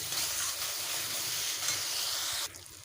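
Spices and green chillies sauté in a pan with a little water while cooking rui posto, a steady close sizzle and hiss that drops quieter near the end.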